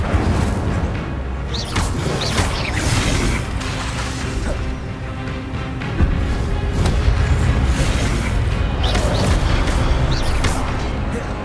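Incendio fire spell bursts from Hogwarts Legacy, loud whooshing blasts and crackling impacts repeating over a dense, busy combat soundscape.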